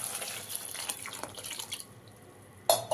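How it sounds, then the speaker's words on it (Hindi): Water splashes and trickles into a vessel of chopped brinjal in a home kitchen, a steady pouring patter that fades out and ends with a small clink. "अब इसमें हम पानी डाल देते हैं।"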